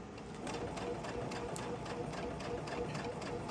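A sewing machine stitching quilt fabric, a fast, even mechanical whir with a regular rapid pulse, close and steady throughout.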